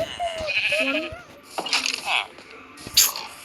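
Sheep bleating in the video game Lokicraft 5: a few short, wavering bleats close together near the start, followed by scattered game sounds, with a voice talking over parts of it.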